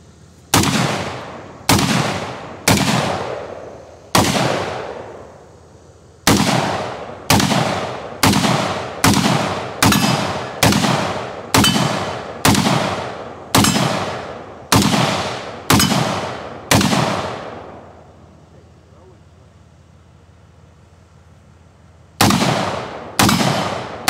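A .223 AR-15 pistol fired outdoors at a range, about eighteen loud sharp reports, some spaced and some in quick runs, each with a short decaying echo, then a quiet pause before two more shots.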